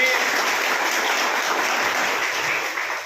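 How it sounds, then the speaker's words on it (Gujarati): A ceremony audience in Vadodara, gathered for handing appointment letters to teachers, claps in a dense, sustained burst of applause lasting a few seconds. "એમના માટે પણ ખૂબ જોરદાર તાળીઓ"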